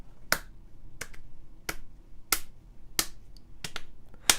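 Sharp, dry clap accents in an Ableton drum groove, about eight crisp hits spaced at a steady, slightly syncopated pulse, each one bright and short against near silence.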